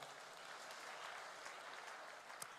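A church congregation claps steadily and continuously, a dense patter of many hands that holds at an even level throughout.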